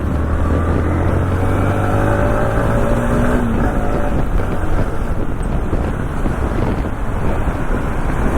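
A modified Yamaha MT-15 motorcycle fitted with Dominar alloy wheels and a Mojo disc brake, riding on a test drive, its steady engine drone heavily buffeted by constant wind rushing over the microphone.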